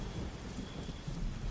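Steady rain pours over a low, continuous rumble of thunder in a Bengali animated horror story scene, with no voices.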